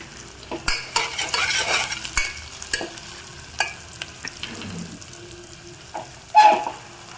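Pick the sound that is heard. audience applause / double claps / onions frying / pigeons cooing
onions frying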